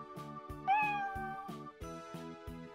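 Lucifer, the cartoon cat from Disney's Cinderella, gives one drawn-out meow over a bouncy orchestral score with regular plucked low notes.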